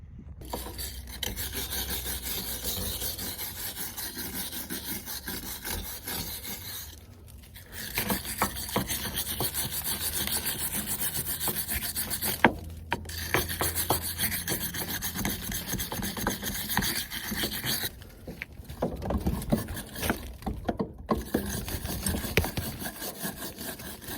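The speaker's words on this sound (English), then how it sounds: "I have to start sanding that entire side as well" Steady, raspy sanding strokes rub back and forth across a Scion car body panel, continuous and close, with a few brief pauses.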